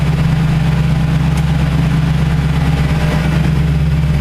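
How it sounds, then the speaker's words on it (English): A car engine run by a VEMS ECU idles steadily with the air-conditioning compressor engaged, giving a constant low hum that stays even and close throughout with no revving. "the engine is quite happy to have the aircon pump going without any problems"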